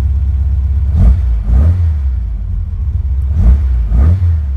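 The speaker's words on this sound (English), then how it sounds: "You hear it really does fire up really nice. Idles well." 1965 Volkswagen Beetle engine idling after a rollover project revival, a deep, low rumbling idle close by with uneven pulsing surges, steady throughout and without voices.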